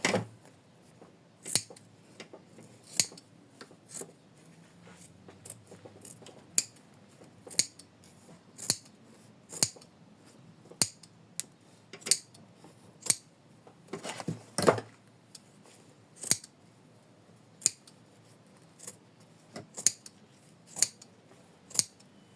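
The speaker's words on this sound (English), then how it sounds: "I know you cannot see how I'm trimming it, but it's just trimming around the edges" Scissors snip around the edges of an in-the-hoop embroidered mermaid bookmark in a steady series of short, crisp cuts. The snips are close but quiet, with no talk.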